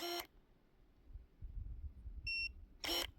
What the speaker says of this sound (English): you heard that beep